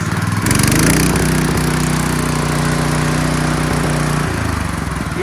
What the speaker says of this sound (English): Engine runs all the way at minimum throttle and runs right up to max.